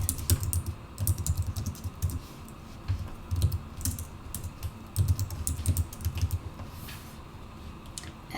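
Computer keys clatter in quick bursts of typing, close and crisp, with short pauses between words as text is entered into COMSOL software.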